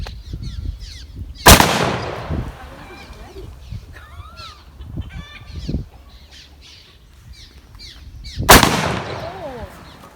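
Birds cawing and calling around an outdoor shooting range after Mossberg 930 SPX shotgun blasts, with two loud, sharp shots and scattered crow-like cries between them, plus faint distant voices.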